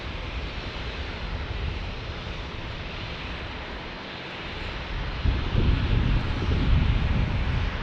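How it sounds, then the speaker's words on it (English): Dassault Falcon 900EX business jet passing at a San Diego airport, a steady broad engine roar with wind buffeting that swells louder and deeper in the last few seconds. "here comes our Dassault Falcon 900EX"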